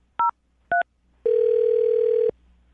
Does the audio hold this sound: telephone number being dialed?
yes